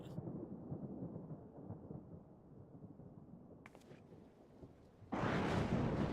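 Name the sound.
thunder in the desert in the video game Final Fantasy XIV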